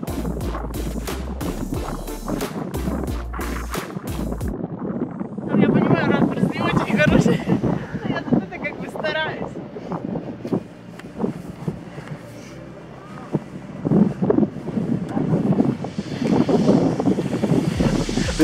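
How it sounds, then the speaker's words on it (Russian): Strong wind gusting outdoors in fresh snow, a steady broadband roar with rumbling microphone buffeting throughout, while people talk over it. "Но сейчас тут ветер дико задувает"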